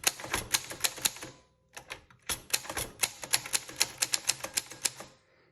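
Keys strike on a 1957 Voss manual typewriter in quick bursts of sharp, close clacks, pausing briefly before resuming a steady rhythmic run of loud strokes.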